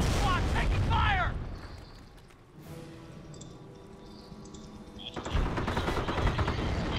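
Bursts of gunfire and battle noise from the World War II strategy game Company of Heroes, with a Sherman tank in the fight. Loud volleys open and close the stretch, and quieter rumbling combat fills the middle.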